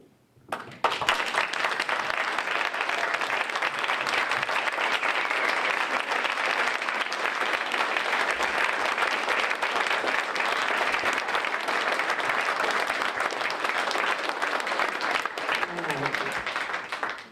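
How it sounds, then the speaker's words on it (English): An audience at a county district attorney debate breaks into sustained applause, a dense, even wash of clapping from a large crowd that swells in quickly and fades near the end. "I'm sorry you had to wait so long to applaud."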